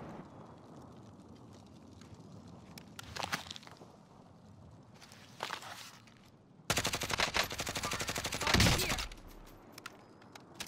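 Gunfire in the video game Warzone: scattered single shots and short bursts, then a long, loud, rapid automatic volley, with footsteps and quieter background game sounds between.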